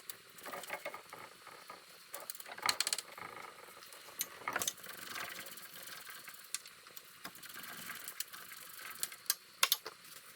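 On an air-cooled VW engine, the oil pump cover is worked off with quiet metallic clicks, scrapes and small taps that come in irregular bursts, close by and faint, with no voices.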